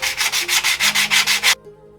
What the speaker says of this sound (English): but I'm not sanding this to sand it. I'm just scuffing up the surface a little bit.